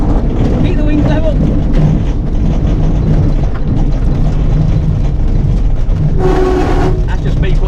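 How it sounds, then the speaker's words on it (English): A glider's wheel brake is applied during the landing ground roll, heard as a loud, constant rumble of wheel and airframe over the ground. A brief scraping surge comes near the end, and no one speaks. "That's just me putting the brake on."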